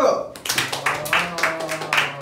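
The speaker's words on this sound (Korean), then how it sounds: "박수!" A small group claps their hands indoors in several quick bursts, close and moderately loud, mixed with brief voices and cheering.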